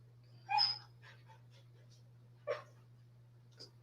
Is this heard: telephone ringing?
no